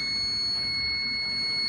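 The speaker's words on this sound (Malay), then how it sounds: "Ni buzzer complete lah" An autoclave machine sounds its completion buzzer, a steady, piercing electronic tone with bright overtones that holds unbroken and loud over a low background hum.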